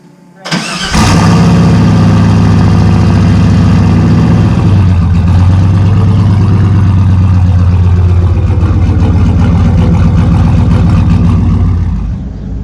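A boosted Chevrolet C10 truck with an LS engine swap fires up with a sharp crank and then settles into a loud, steady, rumbling idle that holds close and continuous throughout.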